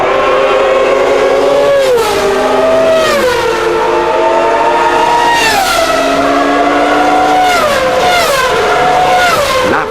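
Formula 1 race cars at the 1994 Japanese Grand Prix scream past loudly as racing resumes, their high-revving engines rising and dropping through repeated gear shifts in close succession, with no break in the noise.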